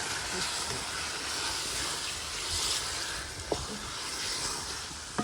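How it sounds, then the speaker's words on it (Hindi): Chicken frying in a hot pan in a village home kitchen, a steady loud hiss and sizzle running unbroken throughout, with a couple of brief sharp clicks near the end. "अभी हम इसमें डाल देते हैं चिकन।"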